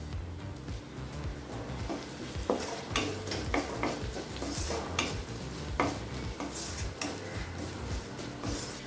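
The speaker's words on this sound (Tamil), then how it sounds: "இப்போ வெங்காயம் நல்லா வதங்கிடுச்சுங்க" Chopped onions and turmeric sizzling in a pan while being stirred, a continuous hiss broken by repeated scraping and clinking of the spoon against the pan, close and moderately quiet.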